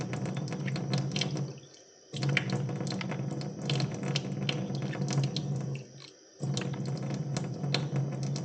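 Water runs from a faucet in a steady stream while reverse osmosis filters are changed, briefly cut off twice, with clinking and tapping sounds close by.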